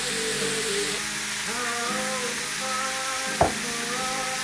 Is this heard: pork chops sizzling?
yes